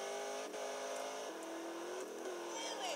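A car engine drones and shifts through gears in GTA San Andreas with a steady revving hum and stepped pitch changes, and a voice talks over it.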